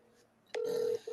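Phone placing a call: a short electronic beep, then a steady ringback tone that runs for about half a second and starts again after a brief gap.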